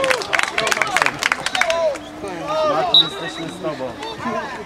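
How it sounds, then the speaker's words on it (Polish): A crowd at a Raiders vs Sabercats sports event claps for a young fan, a short burst of applause mixed with crowd noise while an announcer talks over it. "Brawa dla Mateusza. Jeszcze raz wielkie brawa."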